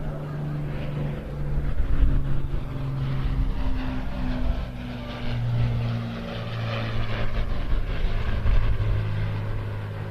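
Avro Lancaster four-engine propeller bomber flying past at the Bournemouth Air Festival: a steady, deep droning engine hum rises and falls gently as it passes, moderately loud, with no voices.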